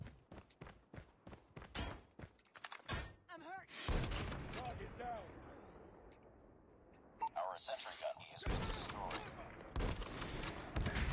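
Rapid bursts of gunfire in the mobile shooter Call of Duty Mobile, with a 20mm ZRG sniper rifle and .50-calibre shots: loud sharp cracks in quick clusters, then a lull and more volleys, under excited talk.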